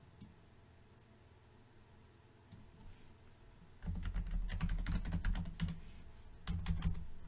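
Keys are typed on a computer keyboard, including an arrow key and Enter, while setting up a Rust development environment in Visual Studio Code. Faint sparse taps come first, then louder bursts of clicking key presses start partway through, close to the microphone.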